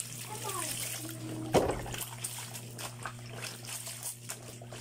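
Water runs faintly into a basin for hand laundry, trickling softly with one brief splash and a low steady hum underneath.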